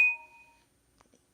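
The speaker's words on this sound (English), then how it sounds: "my phone's just yelling at me" A single bright phone notification ding rings out at once and fades over about half a second, with a couple of faint soft knocks after it in an otherwise quiet room.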